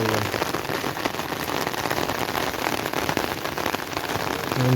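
Steady rain falls at a misty village hilltop viewpoint in the Konkan, a dense, even patter on the ground and grass with no voices, holding constant throughout.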